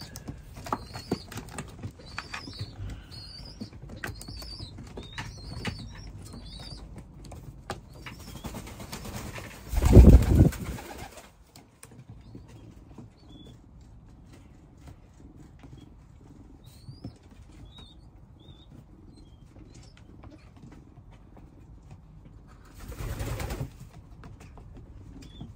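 Racing pigeons in a loft, soft repeated cooing through the first part with a sudden loud burst of wing flapping midway and another shorter flutter near the end, under a quiet background.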